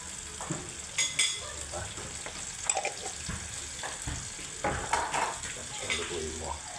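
Spicy pork binagoongan cooking in oil in a pan, a faint steady sizzle with light stirring clinks, under quiet talk.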